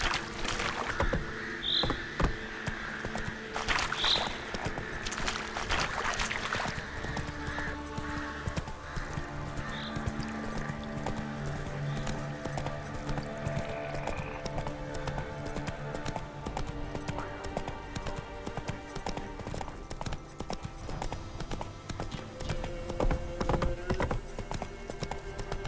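Horse hooves clip-clop at a steady gallop in The Witcher 3, running continuously through a wooded area with occasional whinnies, game ambience and soft effects layered underneath.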